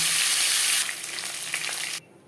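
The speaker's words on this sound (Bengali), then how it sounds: "পরের মাছও মাথা একইভাবে ভেজে নেব" Bhetki fish heads fry in hot oil in a kadai with a loud, dense sizzle that softens partway through, with light stirring sounds, before cutting off.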